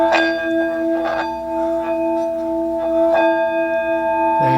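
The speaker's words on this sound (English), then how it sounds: "That's the sound that it makes. Isn't that beautiful? Beautiful sound. And that is the singing bowl." A Tibetan singing bowl rings close up with a steady, shimmering sustained tone, its layered overtones swelling in gentle pulses as the rim is worked, with no talking.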